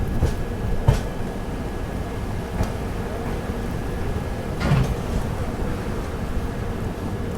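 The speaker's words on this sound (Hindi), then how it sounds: "अभी हम लोगों की ट्रेन पहुंच चुकी है लुनी जंक्शन रेलवे स्टेशन" Ranakpur Express pulling into Luni Junction in Jodhpur district, Rajasthan, heard from on board: a steady low rumble of the moving train with a couple of brief knocks and clunks, no talking.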